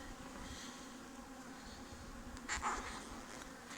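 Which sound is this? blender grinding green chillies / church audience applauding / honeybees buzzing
honeybees buzzing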